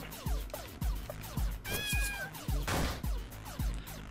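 A cat meows in the video game LISA: The Painful, a quick run of short, close meows in steady succession over a thumping game background, with no talk.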